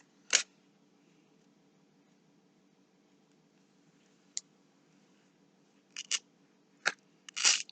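Scissors snip washi tape in a few sharp, close clicks against a quiet background, one near the start, one midway and a small cluster of cuts toward the end.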